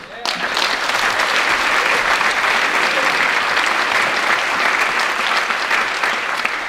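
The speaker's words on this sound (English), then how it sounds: "A round of applause for Mr. Paul Wilson." Audience at a magic award evening breaks into loud, sustained applause that starts abruptly and stays dense and even throughout.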